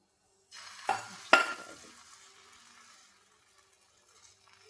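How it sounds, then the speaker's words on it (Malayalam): Egg batter poured into a hot pan for a wheat flour and egg breakfast, two quick splashy bursts giving way to a soft sizzle that fades over a couple of seconds, then near silence. "എന്നിട്ട് നമുക്കിത് മുട്ട ഒഴിച്ചു കൊടുക്കാം."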